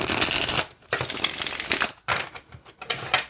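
A deck of Halloween-themed oracle cards is shuffled by hand nearby, producing bursts of crisp riffling and flapping separated by brief pauses.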